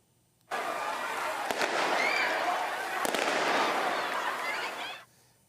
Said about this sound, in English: fireworks were set off in a crowd of people during Canada Day celebrations in Oakville